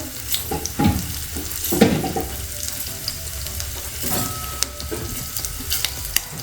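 Cinnamon and coriander seeds sautéing with ginger and garlic in a pan for tomato soup, a soft close sizzle broken by scraping stirs and brief clatters.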